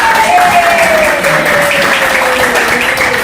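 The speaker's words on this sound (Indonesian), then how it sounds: "Tepuk tangan untuk futsal SMP 120." A school assembly claps for its junior high futsal team, a loud, sustained crowd applause under a faint steady tone, with some voices mixed into the clapping.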